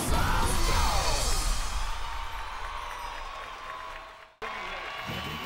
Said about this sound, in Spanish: ¡Un aplauso para el maestro!